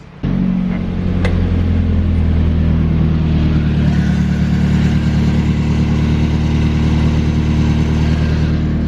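A Nissan S13 engine starts with its transmission in first gear and the drive shaft removed, then runs at a steady, loud, even drone close by, with no talk.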